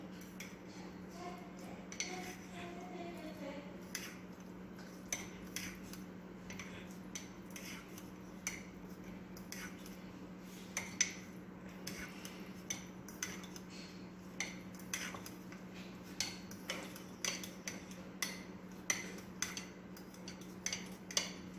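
A spoon stirs chocolate mug cake batter made without eggs, clinking against the mug in a steady, repeated rhythm of light taps. The taps sit close and fairly quiet over a low hum, with no talking.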